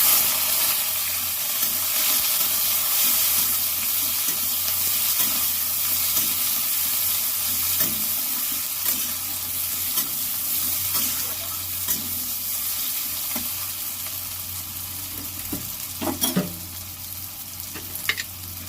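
Onions fry in a pan with a steady, broad sizzle that runs throughout, while occasional scrapes and clinks of stirring rise near the end.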